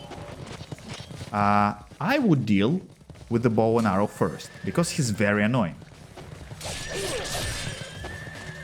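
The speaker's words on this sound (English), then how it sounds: "you have 2 horsemen here" Horses neighing and whinnying in the Ninja Gaiden Sigma action game, with a horseman carrying a bow and another a pike; several loud whinnies stand out over game noise and someone talking.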